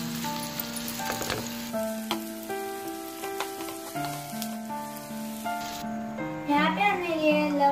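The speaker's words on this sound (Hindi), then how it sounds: "कढ़ाई में हम डालेंगे ऑयल और अभी हम इसके अंदर प्याज डालेंगे चार कटे हुए" Chopped onions frying in oil in a kadai, a soft continuous sizzle under prominent background music with tonal notes throughout.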